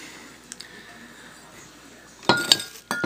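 Glass bottles clink sharply a few times in quick succession near the end, bright and close, after a quiet stretch with faint small taps.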